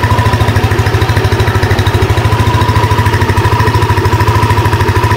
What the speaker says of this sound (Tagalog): Pandarin muna natin para umikot yung tubig, yung distilled tubig, matanggal yung mga tira-tirang kulan